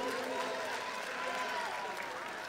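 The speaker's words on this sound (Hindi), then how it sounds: "ताली बजाइए।" A crowd applauds at a political rally, dense, continuous clapping that stays loud and even for a couple of seconds.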